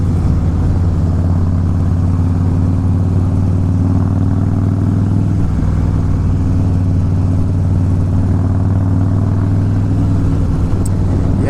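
A Harley-Davidson Fat Boy motorcycle on a ride gives a steady, loud, low engine drone with a constant rumble that holds without pause for the whole stretch.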